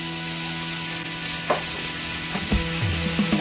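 Red curry paste fries in coconut cream in a pan, with a steady close sizzle and occasional stirring knocks and scrapes toward the end.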